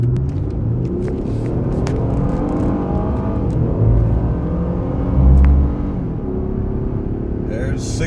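A Ford Taurus pulls away hard from a standing start up to 60 mph from inside the cabin, with engine rumble rising and shifting through gears as a continuous, fairly loud whir and roar.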